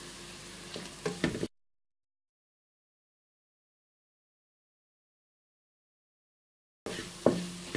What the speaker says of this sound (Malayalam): മഞ്ഞൾപ്പൊടി ഇട്ട് നന്നായിട്ട് മുരിക്കുക.